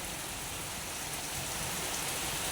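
Heavy rain pours down in Riyadh, Saudi Arabia, a dense, steady hiss of drops on surfaces that stays constant and moderately loud throughout, with no voices.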